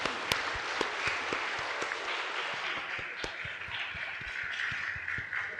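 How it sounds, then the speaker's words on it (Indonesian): A church congregation applauds an elementary school group at a Sunday service, with scattered close claps over a broad crowd clapping. Faint voices murmur underneath while the clapping continues steadily. "Sekali lagi kita tepuk tangan untuk SD Masehi."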